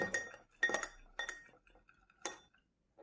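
A spoon clinks against a glass or dish while stirring a mixture with added milk, giving four short bright taps spaced about half a second apart, close and fairly quiet, then silence.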